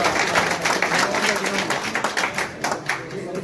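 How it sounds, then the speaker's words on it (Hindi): Audience applause at a trade association gathering in Uttar Pradesh, steady close clapping from a group that fills the whole short stretch alone, without talk. "तालियों के साथ।"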